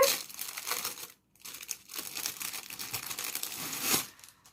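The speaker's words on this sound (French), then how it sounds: "Elle me mange le papier." A cat chews and tears at paper up close, giving soft repeated crinkling and ripping bursts with a brief pause, fairly quiet overall.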